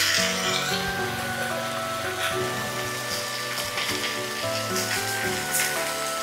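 Carrots and beans stir-frying over high heat for a Chinese-style dish, a dense, continuous sizzle with scraping and rubbing of a utensil in the pan, close and fairly loud, with a steady tonal hum underneath.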